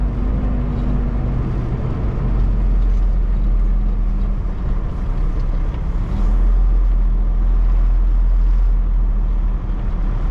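A truck with a trailer, hauling freight, maneuvering into a parking spot: a loud, steady low diesel rumble that drones continuously close up, with a slight shift in pitch midway.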